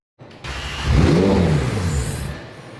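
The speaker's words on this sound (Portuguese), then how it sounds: "O carro não gosta de ligar, né?" McLaren 720S sports car, damaged with a blown oil cap, cranking reluctantly and then catching into a loud, rough rev that swells and fades over a couple of seconds, close up and alone.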